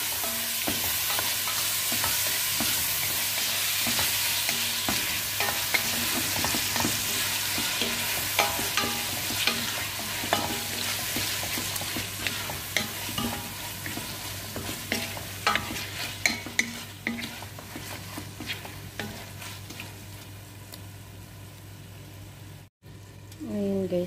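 Tomatoes stirred into okra and potato frying with curry paste in a pan, with a steady hiss of sizzling oil and repeated scraping spoon strokes, close and continuous.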